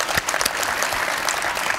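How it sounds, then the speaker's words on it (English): A banquet audience at a junior golf awards dinner claps steadily, a dense, even wash of applause at moderate distance with no speech. "round of applause right there"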